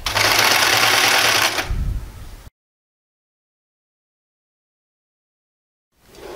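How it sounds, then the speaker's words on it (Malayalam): A sewing machine stitches piping along a folded fabric edge in one loud, close, continuous run of about two seconds. It then stops abruptly and goes silent. "ഈ എഡ്ജിൽ കൂടി തയ്ച്ചു പോവുക."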